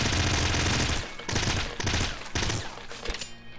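Triple blood gun in the game Nuclear Throne, firing in heavy rapid bursts of overlapping blasts with short gaps between volleys, loud and close with no talking.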